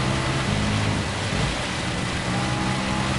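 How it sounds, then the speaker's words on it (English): In Gran Turismo 7, rain lashes down on a racing car as a steady, dense hiss. It sits over a low engine drone and holds constant the whole time, with no talking. "The rain still really lashing us down."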